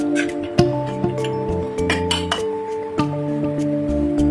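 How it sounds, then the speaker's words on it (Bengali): Katla fish head being stirred and fried with spices in a pan for a muri ghonto dish, with a steady cooking hiss under repeated metallic clinks and scrapes of a spoon against the pan. "মশলার সাথে মাছের মাথাটা আমি ভালো মতো কষিয়ে নিচ্ছি"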